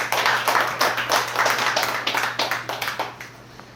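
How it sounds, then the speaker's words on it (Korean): Audience applause at the close of a peace lecture held in an evening lecture hall, steady clapping from a roomful of people with sharp individual claps, loud and continuous, gradually thinning toward the end with no talk over it. "열강해 주신 이찬수 박사님께 다시 한번 큰 박수 부탁합니다"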